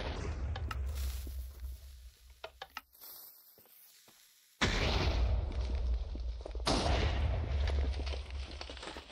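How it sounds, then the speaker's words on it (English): Gunfire and explosions hit a tank in a Minecraft battle, with scattered shots early, a brief lull, then loud sustained blasts and rumbling that fill the rest. "Let's get to the tank. Let's start shooting."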